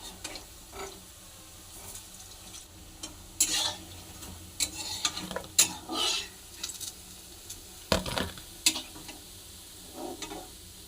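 Cabbage chops frying in hot oil, a soft crackling sizzle with irregular louder pops and scraping stirs, fairly quiet and close, no voices.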